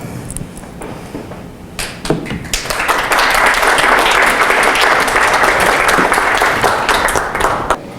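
An audience at the Open World Toronto Film Festival 2019 bursts into applause, quiet at first and then swelling into dense, sustained clapping that fills the room.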